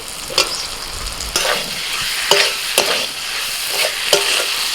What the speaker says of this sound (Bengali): এবার ভাজা আলু দিয়ে দিচ্ছি